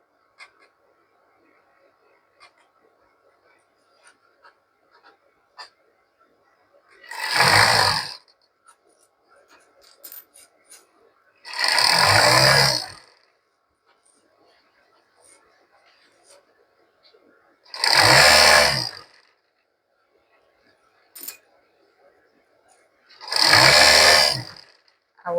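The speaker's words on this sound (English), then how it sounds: "I will stitch to the sleeve opening and stop before I continue again." A sewing machine stitches toward the sleeve opening of an Egyptian khimar in four loud, close bursts of a few seconds each, separated by quiet pauses with faint handling clicks.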